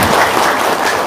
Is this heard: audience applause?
yes